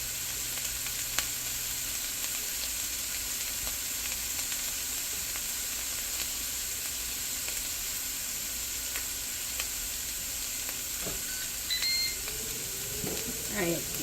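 Bacon frying in a pan in a home kitchen: a constant crackling sizzle with a few faint electronic beeps near the end.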